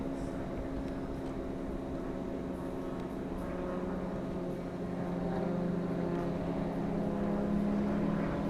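Osprey tiltrotor aircraft in the military strategy game Broken Arrow, a steady droning engine and rotor hum that holds at an even level and swells slightly toward the end, with no talk.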